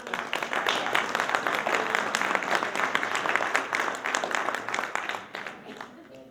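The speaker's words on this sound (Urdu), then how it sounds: "داد کے علاوہ تالیوں کے لیے مستعد ہیں کلیمی صاحب" Audience applause at an Urdu poetry recital, a mushaira, with steady, moderately distant clapping from a crowd filling several seconds before tapering off at the end.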